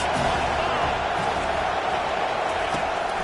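A stadium crowd in a college football video game, Penn State against Nebraska, roars in a steady, dense wash of cheering under a third-down play, with a voice speaking over it.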